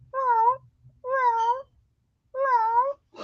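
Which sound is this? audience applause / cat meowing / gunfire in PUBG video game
cat meowing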